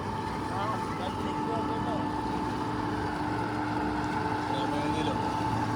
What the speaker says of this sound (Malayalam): ബോട്ട് സ്റ്റാർട്ട് ചെയ്തു